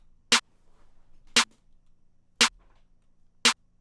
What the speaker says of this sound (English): we have the clap, which is, again, going to sound like a typical clap